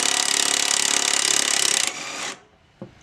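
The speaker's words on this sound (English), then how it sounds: "I'm going to use my 15mm impact with the universal joint" A 15mm impact wrench on a universal joint loosens a rear shock bolt on a 2007-2020 Chevrolet Traverse, giving a loud, steady rapid hammering burst that stops abruptly, followed by a brief clunk.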